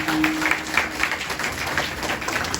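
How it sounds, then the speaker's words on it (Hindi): Audience applause at an annual day and new year celebration, a steady wash of many hands clapping in a hall, moderately loud and continuous throughout the short stretch. "तो सभी अपने लिए ही तालियां बजा लेंगे।"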